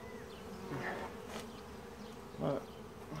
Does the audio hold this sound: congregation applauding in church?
no